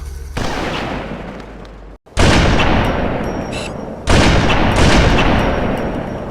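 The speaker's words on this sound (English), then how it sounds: "the explosion sound is the same as the sniper rifle in Halo" Explosions in an early Bungie fighting video game, heavy booming blasts that sound like sniper rifle fire, three loud bursts each with a long decaying rumble, separated by brief silences.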